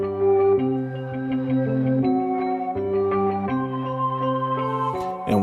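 Layered melody pairing an Easy Keys electric-piano line with Omnisphere's olden days flutes, sustained chords shifting every half second or so in a steady, close, moderately loud pattern, no voices.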